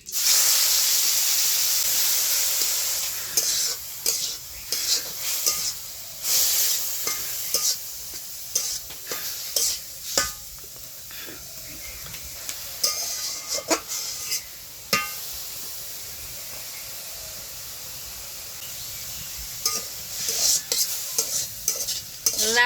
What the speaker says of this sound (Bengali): ঘি দিয়ে লাউটা ভাজবো।